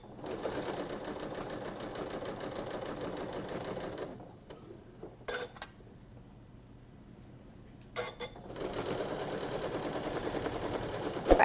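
A Janome S9 sewing machine sews a seam on a child's dress, giving a steady rapid whirr that stops for a few seconds with soft clicks and handling noise, then starts again and runs continuously.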